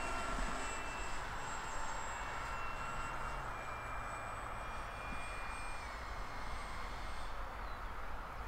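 Engine of an FMS PA18 Super Cub RC plane coming in to land, a steady, fairly faint buzzing drone that holds level throughout with slight shifts in pitch as it flies.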